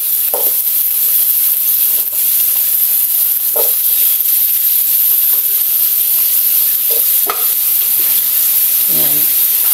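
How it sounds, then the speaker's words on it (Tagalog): Pork, tomato and sweet potato frying in a pan, a loud constant hissing sizzle broken by several scraping stirs of a utensil, close up, with no one speaking. "Napapry na rin siya dyan."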